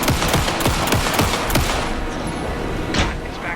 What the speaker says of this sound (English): pin him down with gunfire for me to get the light on him.